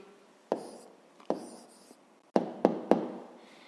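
A pen writes an answer by hand on paper, with faint scratching strokes and several soft taps as it touches down, close and quiet with short gaps between marks.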